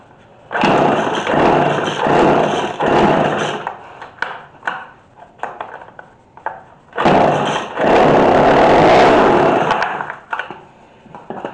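A McCulloch Mac3216 32cc chainsaw with a 16-inch bar runs up close and loud in two long bursts, sputtering and nearly dying in between as its idle is adjusted.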